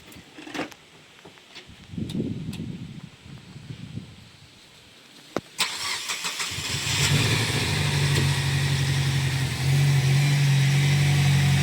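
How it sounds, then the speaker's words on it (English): A 2006 Alfa Romeo 159 1.9 JTS with engine problems cranks over with a few uneven turns and clicks, then catches and settles into a steady, close idle. "So let's give it a crank and see how it goes."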